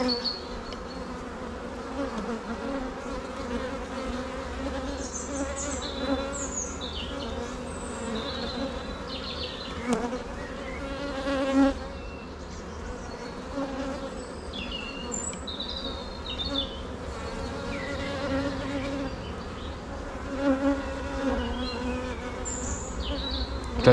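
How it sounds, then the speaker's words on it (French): A virgin queen bee pipes amid a dense, continuous hum of many bees' wing beats inside a hive, short high toots recurring over the steady buzzing with no talk. "C'est vraiment le battement de leurs ailes qui fait ce bruit là."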